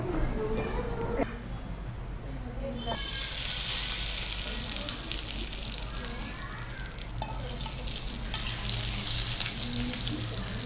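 Oil poured into sesame ivy gourd chutney in a home kitchen gives a sizzling, frying hiss. It starts faint, swells into a bright crackle, eases, then flares again, with running-water-like noise throughout.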